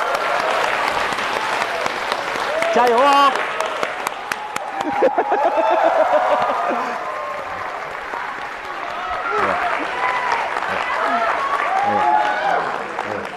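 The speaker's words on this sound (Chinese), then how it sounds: "掌声有请二位" An audience at a Deyun crosstalk comedy show bursts into sustained applause to welcome two performers onto the stage, a dense, continuous roar of clapping with scattered cheers and a shouted voice.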